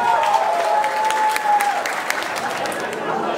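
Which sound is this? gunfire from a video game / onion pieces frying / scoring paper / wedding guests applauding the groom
wedding guests applauding the groom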